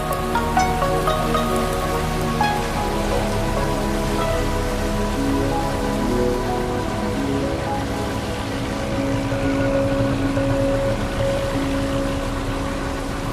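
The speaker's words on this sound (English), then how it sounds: "The rain provides a welcome, though brief, respite from the hot sun and the humidity of this region." Steady heavy thunderstorm rain in Vietnam's Mekong Delta pattering on surfaces, continuous and dense throughout, with a low rumbling wash underneath.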